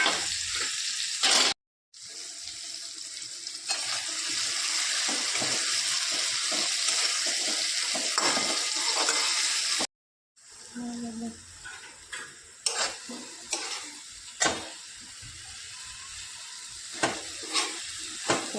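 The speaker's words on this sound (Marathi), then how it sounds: "आता हे वांगे आपण परतायला टाकले" Brinjal (eggplant) fries and sizzles steadily in a pan for a village-style pickle while it is stirred, with scraping and clinking of the utensil against the pan and two brief breaks in the sound.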